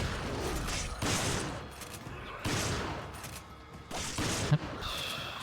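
Gunfire in Resident Evil 5, several loud broadband shots in an irregular burst pattern with short gaps between them, punchy and close against a busy game background.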